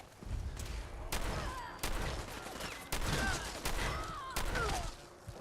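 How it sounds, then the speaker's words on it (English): Gunfire in the video game Fallout 4, several separate bursts of shots spaced about a second apart, loud and sharp, with whooshing and metallic effects between them. "Oh, there's gunshots."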